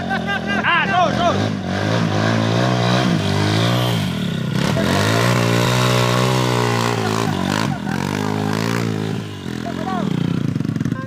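A KTM motorcycle engine revs loud and close, rising and falling in sustained roaring pitch sweeps, with people shouting and talking over it throughout.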